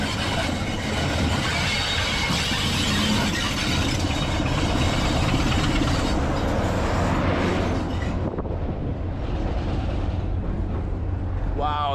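A vintage train at Brechin railway station in Scotland rolls past close by with a loud, continuous rumble and rattle of carriages, easing toward the end with a brief high wheel squeal.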